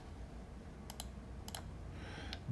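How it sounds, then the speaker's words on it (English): Calculator keys are pressed in quick pairs, a few soft plastic clicks spaced apart against a low room hiss, with a light rustle near the end. "I'm going to grab my calculator and I'm going to type that in degree mode"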